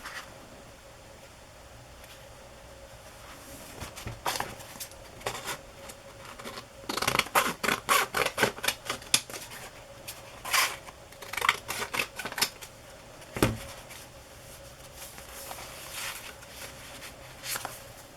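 Scissors cutting paper for a collage: quiet snipping that starts sparse, then builds into rapid clusters of crisp cuts before thinning out again.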